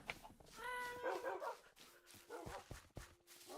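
Dogs bark and yip in Minecraft, a few short barks mixed with a whimper, fairly close and under low game noise with some faint talk.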